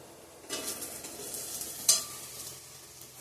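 Eggs for an omelette frying in a pan in a home kitchen, a soft sizzle rising after a short pause, with a brief sharp scrape or clink near the two-second mark and quieter crackling afterward.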